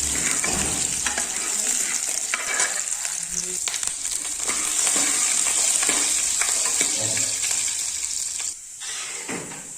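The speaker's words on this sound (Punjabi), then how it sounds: "ਅਦਰਕ ਔਰ ਲਸਣ ਚੰਗੀ ਤਰ੍ਹਾਂ ਭੁੰਨ ਹੋ ਗਿਆ" Ginger and garlic frying in a pan with cumin seeds, a steady, loud, close hiss and sizzle broken by the scrape of stirring, with no talk over it.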